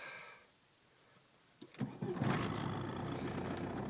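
A quiet pause, then the 1.6 turbodiesel engine of a 1986 Volkswagen Passat B2 cranks and catches, settling into a loud, steady rattling idle.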